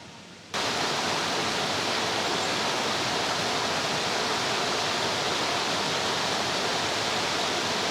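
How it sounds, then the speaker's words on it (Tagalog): Strong rushing current of a waterfall at a camping site in Cavinti, Laguna, a dense, steady roar that starts abruptly and stays loud and unbroken, close by, with no voices. "Lakas ng agos."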